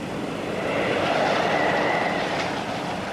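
A passenger train runs steadily on its rails in nineteenth-century Russia, bound for Petersburg, with a continuous loud rumble and a faint squeal of wheels, and no voices over it.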